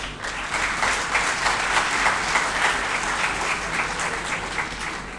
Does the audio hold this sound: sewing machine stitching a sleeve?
no